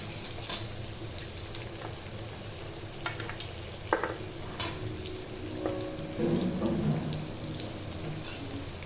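Chopped carrots with a pinch of salt sizzle and fry in a pan for upma, a steady close crackle with occasional stirring scrapes and no talking.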